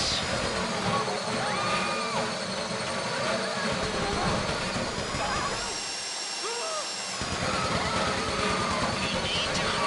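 A heist drill grinds into a bank vault deposit box during the Fleeca heist in GTA 5, a steady mechanical whine under dense game noise, dipping briefly near the middle before resuming.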